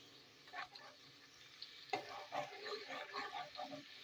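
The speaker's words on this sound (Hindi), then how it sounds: "प्याज को गोल्डन ब्राउन करेंगे, ज़्यादा ब्राउन नहीं करेंगे।" Onions frying in oil until golden brown for a mustard greens tempering, a steady sizzle with intermittent stirring scrapes, close and moderately loud, no talk.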